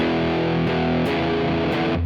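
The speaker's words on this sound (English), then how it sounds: "Really try that out and listen to distortion" Electric guitar played through distortion, with a darker setting on the neck pickup or a more aggressive bridge-pickup tone in a slow blues style. Sustained, overdriven chords ring out with a few changes, close and loud, with no talking.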